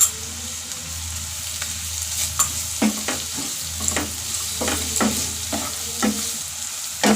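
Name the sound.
ginger garlic paste frying in pan for snail curry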